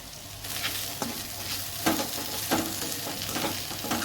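Roasted okra being stirred into masala in a pan: a continuous close sizzle with several distinct scraping, clattering strokes of a spatula at irregular intervals, and no one speaking.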